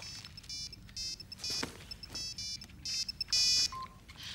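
A mobile phone rings with a repeating electronic ringtone of short melodic bursts in a steady rhythm, fairly close and clear, with no voices.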